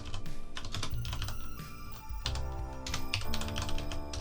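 Computer keyboard typing a command into PowerShell, a quick close run of crisp key clicks lasting about four seconds with no voice over it.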